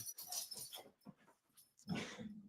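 Dog whimpering and growling nearby, a run of soft whines and throaty rumbles broken by short pauses, then a louder growling burst, fairly faint overall with no talk over it.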